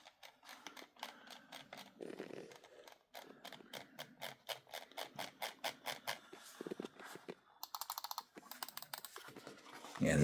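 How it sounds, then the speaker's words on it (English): A Redragon ViperFly RGB gaming mouse is clicked repeatedly at close range, with crisp, rapid button clicks in uneven bursts and short pauses, and no talking. "Nice clicking."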